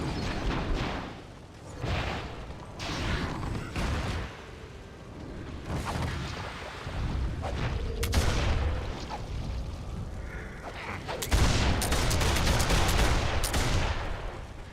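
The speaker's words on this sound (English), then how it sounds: "Stop shooting me." Repeated gunfire bursts and booming impacts from a battle in the online fantasy game Warhammer Online: Return of Reckoning, with loud shots scattered throughout and heavier blasts near the end.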